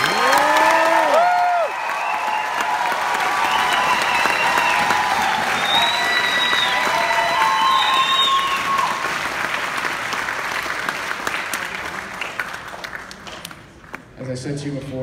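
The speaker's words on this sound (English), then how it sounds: "Have one big round of applause for all of them." An audience applauds graduating seniors at a school concert and honors event, with sustained, dense clapping and some cheering that carries at full strength before thinning out near the end.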